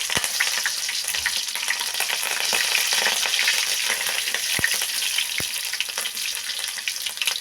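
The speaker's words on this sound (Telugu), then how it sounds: "ఒక స్పూను ఆవాలు రెండు పచ్చిమిరపకాయలు అండి చీలికలు చేసి వేసుకుంటున్నాను" Mustard seeds and slit green chillies frying in hot oil give a continuous bright sizzle with scattered crackles and a few sharp pops, close and steady throughout, no voices.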